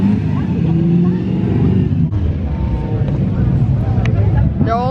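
Classic car rolling past at a castle car show, its engine rumbling loudly and steadily close by, with crowd noise and people talking over it.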